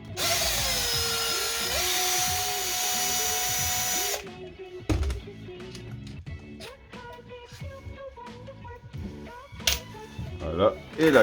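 A power screwdriver whirs steadily for about four seconds while removing screws from the rear differential of a Hobao Hyper VS2 RC car, followed by clicks, small parts handling and a French-speaking voice.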